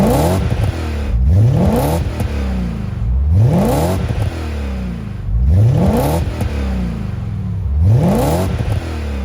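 A BMW M5 with an aftermarket exhaust revs repeatedly, four sharp rising blips spaced about two seconds apart, each climbing then falling back to a rumbling idle, loud and close with no talking.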